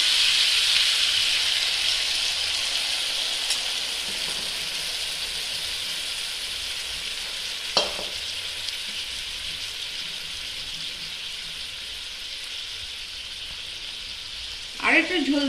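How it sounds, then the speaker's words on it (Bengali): Steady, fairly loud sizzling hiss of mustard paste water hitting a hot pan for a sauce of drumsticks and vegetables, holding on throughout with a couple of sharp clinks near the middle and at the end. "এবার আমি সর্ষের বাটা জলটা ঢেলে দেব"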